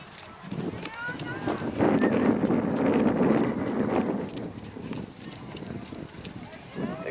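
Rhythmic hoof clip-clops of a small horse moving along at an obstacle riding competition, mixed with voices and background chatter at moderate volume.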